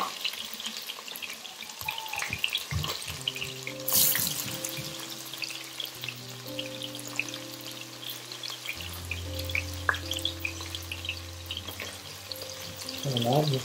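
Onions frying in hot oil in a pot give a continuous crackling sizzle, with clatter and scraping from a spatula, a loud burst when they go in, and background kitchen hum and tones throughout.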